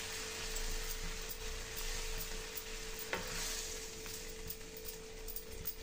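A spoon stirs grated carrot halwa cooking in milk with cream in a pan, a steady scraping and soft bubbling sizzle throughout, close and continuous with no voice.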